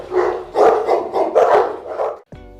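A Boerboel dog barks in a loud, close series of about six deep, harmonically rich barks over two seconds, followed by a brief pause and a softer buzzing tone.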